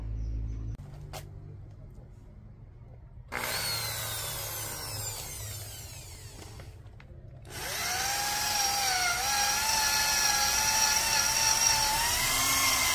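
A power drill bores a hole in steel for a pipe mount, its motor whining and shifting pitch in loud bursts, cutting out and restarting with a strained, rising drone.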